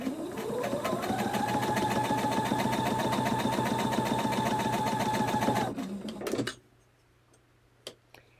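Sewing machine stitching a quilt block, a steady rapid whirring run of needle strokes lasting several seconds, then slowing and stopping, followed by near silence with a couple of small clicks.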